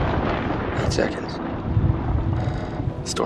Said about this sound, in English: Storm's 8 miles away.